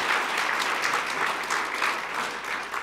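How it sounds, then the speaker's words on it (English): Summit audience at a South African human resource development event gives the minister a steady round of applause, a dense continuous wash of many hands clapping throughout with no talk. "Can you give the Minister another round of applause,"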